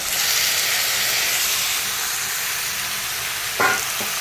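Tomatoes going into a pan of onions frying with turmeric, giving a loud, steady sizzle and hiss throughout, with a brief clatter near the end.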